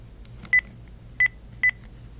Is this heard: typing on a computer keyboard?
no